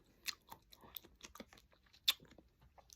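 Close, crisp crunching and chewing of fresh pineapple, with irregular bites and mouth clicks sounding quietly near the microphone and no talking.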